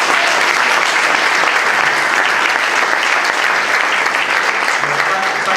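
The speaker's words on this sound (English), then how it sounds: "I applaud you for doing that, Cliff." Audience applause at a mayoral candidate forum, steady dense clapping from a crowd that holds at an even level throughout, loud and continuous.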